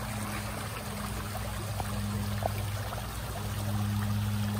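River water flowing steadily on a mountain outing, a continuous rushing wash close by with a faint low hum underneath.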